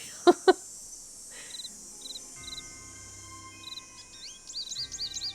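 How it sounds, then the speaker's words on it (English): A goldfinch sings in the Nancy Drew game Ghost Dogs of Moon Lake, a run of quick, bright, twittering notes building toward the end over faint insect chirps, after two sharp clicks and a few soft calls. "Oh, okay, we hear a goldfinch."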